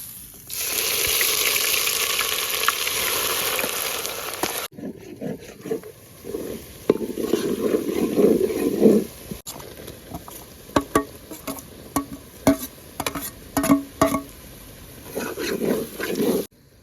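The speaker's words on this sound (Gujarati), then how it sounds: "હવે વઘારની અંદર આપણે લીલી હળદર શેકી લઈએ" Fresh green turmeric sizzles and spatters in hot oil, a loud hiss at first that turns into irregular crackling pops.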